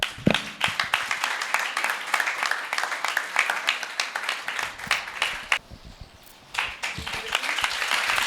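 Audience applause at a church television anniversary gathering, dense clapping from many hands that dips briefly before swelling again.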